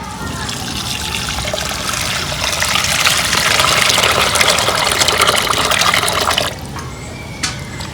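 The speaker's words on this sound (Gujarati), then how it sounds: "પાણી નાખી દઈએ." Water pours steadily into a vessel to wash mango pickle ingredients, a loud continuous splashing stream that stops abruptly near the end, followed by a faint drip.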